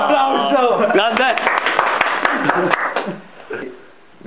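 A small group claps for a young man turning 18 at a birthday gathering, brief and close with cheering voices over it, fading out after about three seconds.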